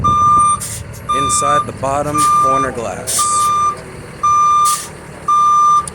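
A school bus backs up during Class B CDL offset parking practice, its reversing alarm beeping steadily in an even rhythm. Someone talks over the beeps inside the bus, with engine hum beneath.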